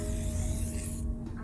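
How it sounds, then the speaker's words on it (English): A spray paint can fitted with a female cap hisses in one steady, close burst that tapers slightly at the end. "It's not the fattest spray, but it's very controllable."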